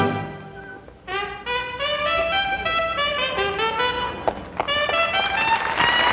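American jazz performance at the Hollywood Bowl, with a bright horn line of quick melodic phrases over rhythm accompaniment, lively and continuous with a few sharp accents near the end.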